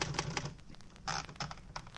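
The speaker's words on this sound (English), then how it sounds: "There was a typewriter, and I tried it." Sharp, irregular keystrikes from a typewriter in an office, a quick burst of clacks with a few louder strikes, close and fairly quiet with no talk.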